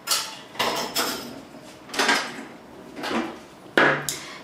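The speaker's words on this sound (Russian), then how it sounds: "Просто перемешать, ничего не взбиваем." A spoon stirring a courgette casserole mixture in a bowl, making about five separate scraping, knocking strokes against the bowl, close and fairly quiet, with pauses between them.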